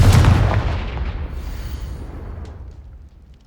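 A Confringo fire spell detonates in Hogwarts Legacy, a loud close boom with a sharp crack that rolls off into a long rumbling decay lasting several seconds, with no voices.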